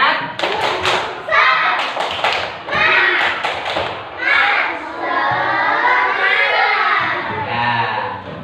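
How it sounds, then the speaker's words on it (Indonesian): Children in a classroom clap a quick, rhythmic spirit-clap pattern together, then keep chanting and shouting as a group. "Ayo supaya semangat belajar, kita tepuk semangat dulu ya"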